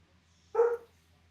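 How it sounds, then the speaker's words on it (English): A dog gives a single short bark, loud and fairly close, breaking a quiet room during a live baseball game reaction stream; nothing else stands out around it. "my dog barking in the background"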